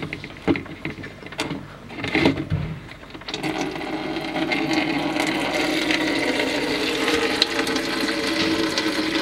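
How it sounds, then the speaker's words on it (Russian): Antifreeze pours from the bottom drain cock of a 1996 Toyota Dyna radiator into a container, a steady close splashing trickle that settles into a continuous watery rush after a few uneven bursts. "Сливаю антифриз."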